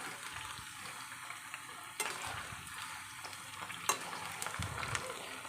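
Cauliflower snacks frying in a pan crackle and sizzle steadily while being gently stirred, with a couple of sharp utensil knocks against the pan.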